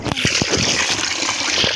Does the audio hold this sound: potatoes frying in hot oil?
no